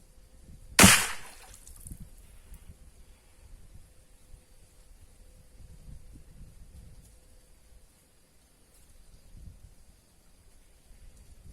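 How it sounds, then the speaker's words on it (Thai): A single sharp shot from a CZ 457 .22 LR rifle fired while hunting tilapia, loud and close near the start, then a low outdoor background hiss with no further shots. "ผมยิงไปสองนัดแล้วนะครับ"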